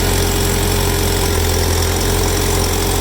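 A 1979 International Harvester Cub tractor engine with a finicky carburetor runs steadily and loudly up close, a continuous rough idle-like drone with a knocking pulse and no talk.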